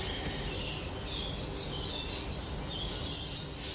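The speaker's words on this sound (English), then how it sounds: "You can hear the birds in the background." Faint birds chirping in the distance in the early morning over a steady outdoor hiss, small high calls scattered through a quiet ambience without talk.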